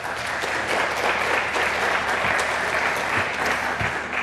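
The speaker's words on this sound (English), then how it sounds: "Please give a warm round of applause to Matthew." Steady, dense applause from a large crowd, loud and continuous throughout with no pauses.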